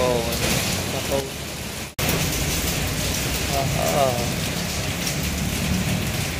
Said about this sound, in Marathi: पाऊस एवढा मोठा आहे ना प्रचंड